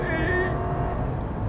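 A 2022 Ram 1500 Limited pickup with a V8 hybrid engine accelerating, a steady deep engine drone with a rising tonal whine, heard from inside the cab, with no talking.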